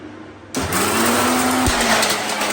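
A mixer grinder starts abruptly and runs loud and steady, its motor whining as it grinds red chillies, ginger pieces and curry leaves, with a brief dip in pitch partway through.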